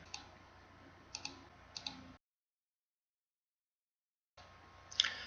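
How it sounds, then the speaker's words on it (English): Computer mouse clicks in a quiet room during a software installation, a few sharp close clicks spaced about a second apart, then a silent gap and a brighter click near the end. "We'll click OK."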